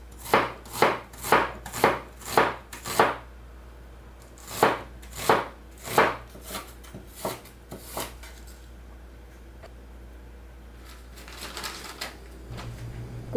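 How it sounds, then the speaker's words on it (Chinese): A knife chops an onion into small dice on a cutting board. The first half brings a quick run of loud, evenly spaced thuds, then the chops slow, soften and fade out, leaving faint clatter near the end. "洋葱切碎丁"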